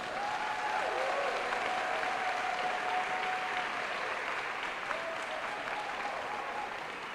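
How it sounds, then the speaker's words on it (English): A crowd applauds steadily at a New York City school food event with Mayor Eric Adams, a dense, even roar of clapping that holds throughout, with a faint whistle-like tone above it. "Please give them a nice round of applause."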